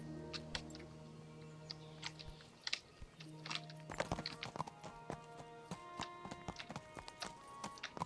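Horse hooves clip-clop in a quick, uneven rhythm in Kingdom Come: Deliverance, mixed with game music tones and clicks, fairly quiet throughout.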